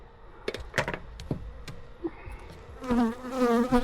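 Honeybees buzzing in a jar, a brief tonal drone rising near the end after several sharp knocks and taps of the jar being handled, quiet and close.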